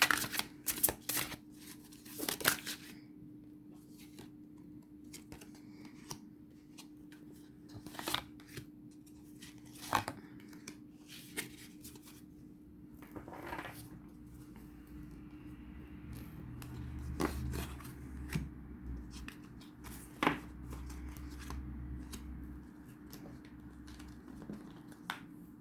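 Angelic-presence oracle cards being shuffled by hand, heard as quiet, irregular riffling snaps and soft scrapes spread across the clip over a low steady hum, with no talking.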